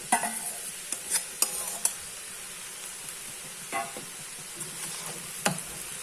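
Ingredients being sautéed and stirred in a pan for a raw jackfruit snack, with a steady soft sizzle and sharp clinks and scrapes of the spoon against the pan, heard close with no talking.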